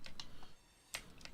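A coal refinery in the video game Foxhole gives off faint, quick ticking clicks, a few scattered light ticks over a soft humming background.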